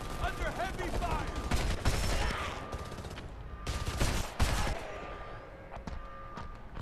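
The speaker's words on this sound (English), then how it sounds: "Under heavy fire." Heavy gunfire in the Homefront video game, with bursts of automatic fire and sharp shots coming in several loud waves over continuous battle noise, while voices speak over parts of it.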